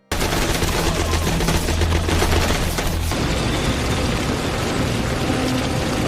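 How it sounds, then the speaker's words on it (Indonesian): Heavy weapons from an action film scene fire in dense automatic bursts with booming blasts, a loud and continuous barrage that fills the whole stretch with no speech. "Namun apalah daya, beberapa anak buah Valstoria yang menggunakan senjata berat tentu saja mampu menghabisi Zoran dengan mudahnya."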